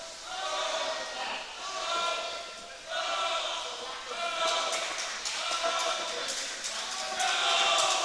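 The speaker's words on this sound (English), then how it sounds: "The boys at the end that are cheering" Group of boys cheering and shouting at a swimming meet, a continuous roar of young voices with rising and falling bursts, echoing over the pool throughout.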